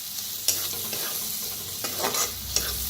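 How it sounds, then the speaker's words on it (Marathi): Tomatoes roasting in a pan, a steady close sizzle with occasional brief scraping stirs, no one speaking. "तर याला बी छान असं भाजून घेऊया।"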